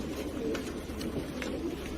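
Racing pigeons cooing in a loft during early breeding pairing, soft repeated coos over a steady low rumbling background, faint and continuous with no talking.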